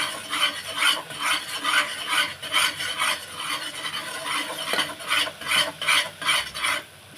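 Spices frying in oil for a bitter gourd curry over a medium flame, stirred continuously: rhythmic scraping and rubbing strokes of a utensil in the pan with a faint sizzle underneath, close and steady, with no talking.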